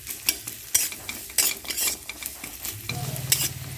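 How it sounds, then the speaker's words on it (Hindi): Grated coconut fries in oil in a village kitchen while a spatula stirs it, making repeated scraping strokes over a steady close sizzle, with no talking. "एई तेलेर उपरे नारकेलगुलो भेजे निच्छि"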